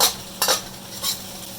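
Vegetables for yellow chicken curry sweat in a pan with a soft steady sizzle, and three short scraping stirs of a utensil stand out up close.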